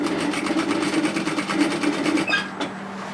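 Sewing machine stitching steadily through bulky dress side seams with a back tack, a continuous close whirring hum that stops abruptly near the end.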